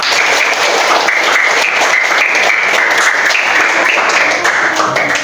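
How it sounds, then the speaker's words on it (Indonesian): A school class applauds, with dense, steady clapping from many hands, loud and close. It holds evenly for about five seconds before easing slightly at the end. "tepuk tangan untuk kita semua."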